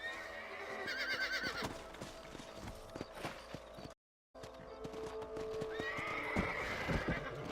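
Horses whinny and snort over steady clip-clopping hooves in a video game, with a brief dropout midway before the hoofbeats and neighing resume.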